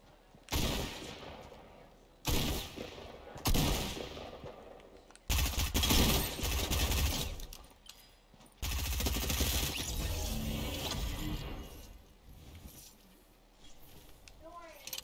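Bursts of rapid gunfire from a Fortnite match come in several loud volleys, some clipped and some sustained for a few seconds, with players talking over parts of the shooting.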